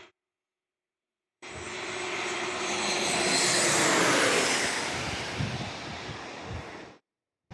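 An Alaska Airlines airliner passes through San Diego under the lights, its jet roar rising abruptly out of silence, swelling to a loud peak, then fading and cutting off.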